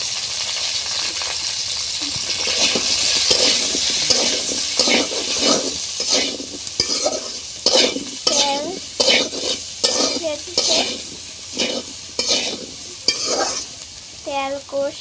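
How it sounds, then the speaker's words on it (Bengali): Potatoes and jackfruit fry in a pan with turmeric and salt, giving a continuous sizzle broken by repeated close, rhythmic scrapes and clinks of a spoon stirring against the metal. "আলু দিয়ে আর কাঁঠাল দিয়ে রান্না করছি"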